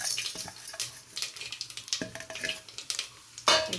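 Mustard and cumin seeds dropped into hot oil crackle and pop in rapid bursts over a steady hiss, close up with a louder splutter near the end and no talk.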